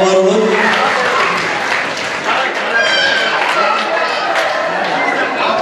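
Wedding guests applauding at a reception, a loud, steady wash of clapping from a large crowd with chatter and voices mixed throughout.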